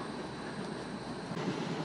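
Sagami Line commuter train rolling through a residential area near Hashimoto, Kanagawa, heard as a steady, moderately quiet interior rumble of wheels on track with a constant hum and no talking.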